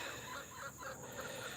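Faint, soft clucking comes from a small flock of young laying hens, about five and a half months old, heard quietly at a distance over a low steady background hush.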